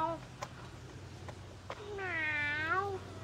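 A lion gives a long, drawn-out meow-like call with rising and falling pitch, close by at a zoo, after a few soft clicks and faint background noise.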